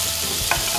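Carrots sizzling loudly and steadily in a hot pan, with a brief scrape of a spatula stirring through them midway.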